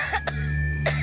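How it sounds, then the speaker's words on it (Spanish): Coughing in a Spanish-language cough syrup advert: two quick close coughs, a short pause, then a third cough, all over a steady low background hum. "Cuando la tos entra en tu casa,"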